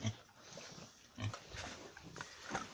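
Soft grunts and snuffling from a few piglets close by in a barn, low oinks coming in short bursts with rustling between them.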